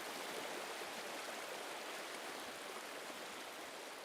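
The Big Sur River in Monterey, California, rushes steadily past, a dense, even hiss of flowing water with no breaks, heard alone without any voices.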